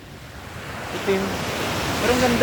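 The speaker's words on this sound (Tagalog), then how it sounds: "Dito kami ngayon sa dagat." Sea waves wash onto a sandy beach in Occidental Mindoro, a steady broadband surf wash with light wind noise, and a person speaks briefly over it.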